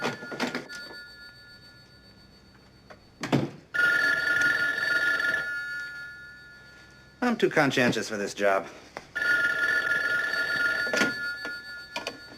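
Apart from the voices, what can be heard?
telephone bell ringing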